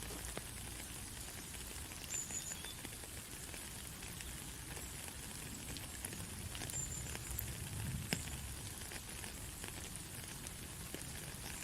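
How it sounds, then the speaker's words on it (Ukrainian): Steady rain falls with a constant dense patter and hiss, occasional louder drops standing out, continuous throughout with no voices. "Так, краплинки дощу це вода."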